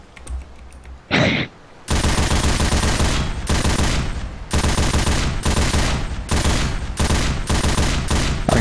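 Pistol gunfire in Left 4 Dead 2, loud rapid bursts of shots in several long stretches separated by brief pauses, with no talking.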